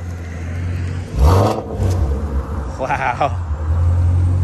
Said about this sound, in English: the downshift sounded crazy